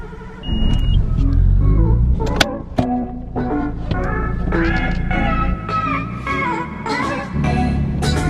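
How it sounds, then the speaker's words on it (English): A Nissan R32 Skyline is started up, the starter and engine catch followed by a loud, steady idle rumble close to the microphone with a few sharp clicks and knocks over it. "let's go ahead and start up my new Skyline"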